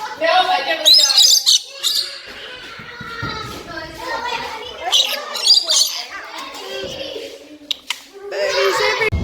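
Parrots squawk and chatter at a bird meet, with repeated harsh shrieks and whistles close by, interspersed with softer chirps and busy overlapping calls.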